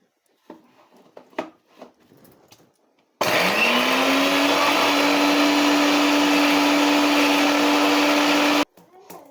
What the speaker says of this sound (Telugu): ఇప్పుడు కొత్తిమీర మిక్స్కి వేస్తున్నావు